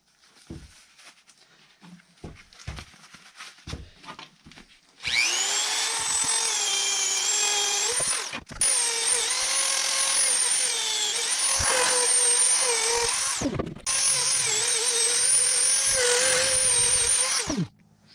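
A grinder bites into a cast aluminum Bronze Age style sword, a loud, steady high whine that cuts out and restarts a couple of times after a few faint taps and handling sounds.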